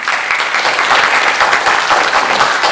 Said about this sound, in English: Okay, let's have a round of applause.